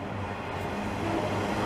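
A CN autorack freight train rolls past in Dorval, Montreal, a steady broadband rumble and roar of rail cars at moderate distance, continuous without talk.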